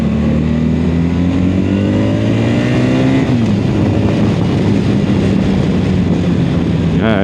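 A BMW touring motorcycle accelerates hard at high revs. The engine note climbs steadily and loudly, drops briefly at a gear change, then keeps pulling with a strong, continuous drone and no talk.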